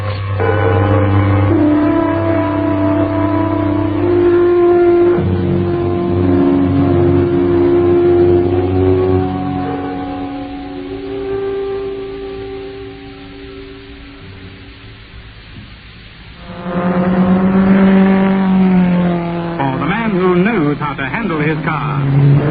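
A car engine revs and drives off in a vintage radio drama scene, rising and falling in pitch at close range, then fading to a lull before revving up loudly again.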